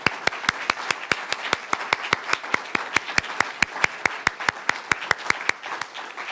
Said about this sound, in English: please join me in giving them a round of applause if you would